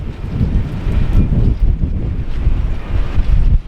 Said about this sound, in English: Oh, it's really windy and I'm happy to be in a marina.